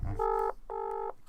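Two sustained touch-tone dialing beeps from a telephone sound as a call is placed, each a steady electronic tone lasting about a third of a second, separated by a short gap, clear and close with no talking.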